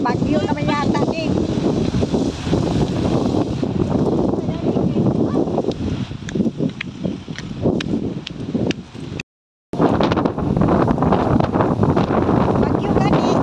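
Strong stormy wind buffets the microphone outdoors in Ayia Napa, Cyprus, as a continuous loud roar and rumble. People talk over it throughout, and there is a brief total dropout near the end.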